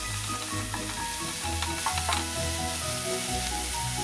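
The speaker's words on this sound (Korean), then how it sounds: "당근은 더 맛있으라고 볶아주세요" Carrot strips stir-fried in a frying pan crackle and sizzle up close, with the scrape and toss of stirring running continuously through a short steady stretch.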